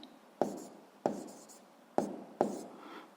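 Pen on paper while working through a school physics exercise: four short scratchy bursts of writing, close and quiet, with small pauses between strokes.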